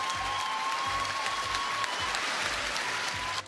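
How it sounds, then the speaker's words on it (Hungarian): A room of quiz contestants applauds the third-place team at an awards moment, steady clapping over a low rhythmic music bed, cutting off abruptly near the end. "hatalmas tapsot kérünk nekik"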